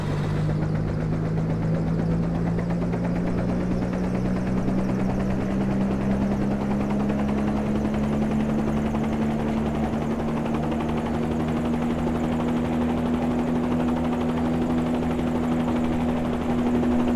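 Helicopter engine in Microsoft Flight Simulator 2020 at Hooper Heliport, home of the LAPD Air Division, gives a loud, steady droning whine that rises slowly in pitch throughout, with no talking.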